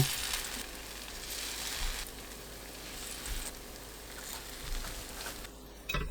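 Thinly sliced burdock and batter sizzle steadily in a pan of hot cooking oil, a loud, even crackling hiss that swells and eases slightly, with no voices over it.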